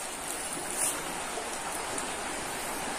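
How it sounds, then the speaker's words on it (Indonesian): The Elo River flowing beneath an old railway bridge in Indonesia, heard as a steady, even rush of water that holds constant throughout, with no voices over it. "Dan di bawah ini adalah aliran Sungai Elo."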